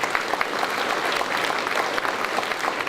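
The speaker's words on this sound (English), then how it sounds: "let's give him a round of applause." Audience applause fills a news conference room with Albuquerque's mayor, a steady wash of clapping held at an even level for about three seconds with no talk over it.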